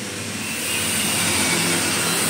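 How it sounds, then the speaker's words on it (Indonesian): Metal roll bending machine for rolling steel plate, hollow section, angle iron and similar stock, running with a steady, loud broadband mechanical drone and whine that holds evenly throughout, with no talk. "kelebihan mesin roll ini bisa untuk ngerol plat, ngerol hulu, ngerol siku, ngerol spread"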